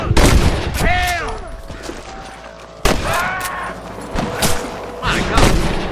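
Sniper gunfire in the Red Dead Redemption video game on PS3: several sharp shots crack out over a busy, loud mix, with voices shouting alongside.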